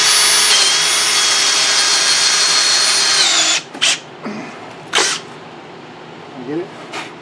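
Power drill whining steadily at close range as it bores out the plugs on a Yamaha 1200 PV carburetor, then cutting off, followed by a few short scraping knocks and a brief voice.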